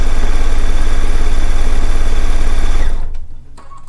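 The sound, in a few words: sewing machine stitching down binding fabric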